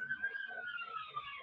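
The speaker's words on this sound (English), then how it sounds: "And there's a police car." A police car siren sounding in the distance, a steady wailing tone drifting slowly in pitch, faint, with a voice speaking over it.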